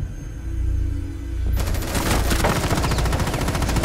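Automatic gunfire in Rainbow Six Siege breaks out suddenly after a low rumbling lull, then continues as a loud, close, rapid stream of shots to the end.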